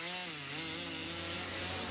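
A chainsaw runs steadily at high revs while felling trees during clear-fell logging in Tasmania, its loud continuous engine whine holding a constant pitch throughout with no talk over it.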